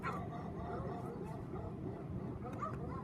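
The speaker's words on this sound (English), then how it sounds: "Barking dogs." Several dogs bark and yip in a recorded sound effect, played back faintly against a dense, noisy background. The yelps come in short, scattered bursts over roughly three seconds.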